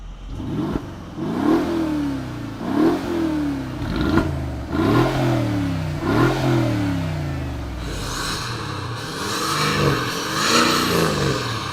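The engine of a Mega Raptor 6x6 truck accelerates hard in a drag race against a Mega Brabus 6x6. Loud repeated revving rises and drops through gear changes, each surge climbing in pitch, then settles into a sustained high whine near the end.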